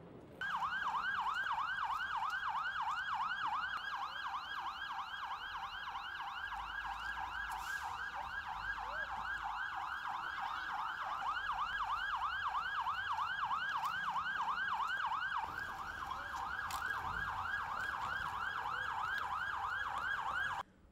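An ambulance siren wails in a fast, steady up-and-down cycle, loud and close for the whole stretch over faint traffic rumble, with no voices.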